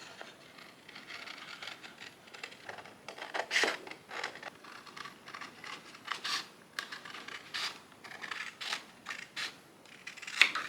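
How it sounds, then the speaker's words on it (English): Quiet, close snipping of scissors through paper, a series of soft crisp cuts with small rustles between them. "Let me get some scissors onto this."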